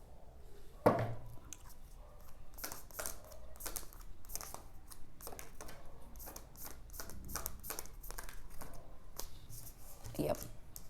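Tarot cards drawn and flipped from a deck, a series of soft, crisp card snaps and slides spread across the stretch, close and fairly quiet.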